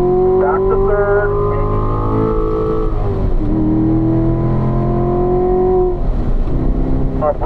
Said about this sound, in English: Breathe that throttle and accelerate through the middle